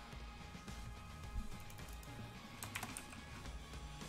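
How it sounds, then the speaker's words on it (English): Rapid typing on a computer keyboard during a gaming tournament break, light irregular key clicks rattling close and continuous, with a few sharper bursts of clatter toward the end over a low room hum. "they're typing"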